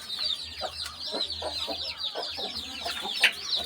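Farm hens cluck steadily, a dense overlapping chorus of many birds with repeated short clucks and calls close by, continuous throughout.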